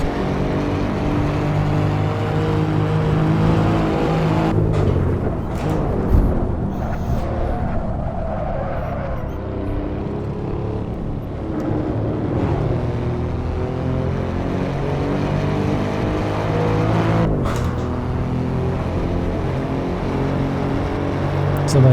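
Alfa Romeo Giulia Quadrifoglio with a 2.9 V6 bi-turbo engine on the Nordschleife, droning and rising through gears at steady loudness from inside the car, with occasional voices.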